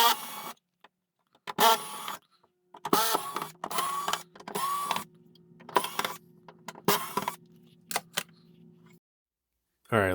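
Screws being undone and the top cover lifted off a DeltaLab Effectron effects unit, heard as several close bursts of metallic clicking, scraping and handling noise separated by short pauses.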